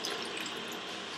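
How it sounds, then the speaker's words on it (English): A cup of water pours into a cooking pot for Malvan chicken, a steady soft splashing stream heard close and alone. "I'm just adding another 1 cup of water"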